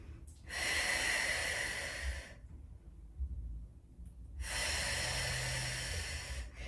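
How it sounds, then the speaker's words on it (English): Breathing during a Pilates hamstring stretch: two long, airy breaths, each lasting about two seconds, separated by a quiet pause, close and clear with no talking. "Keep breathing into it"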